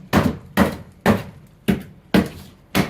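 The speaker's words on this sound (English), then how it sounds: "So I'm just using a hammer." A hammer strikes a water-damaged floor six times in a steady rhythm, each blow a sharp, close, fairly loud impact with a brief rattling decay as the material breaks up.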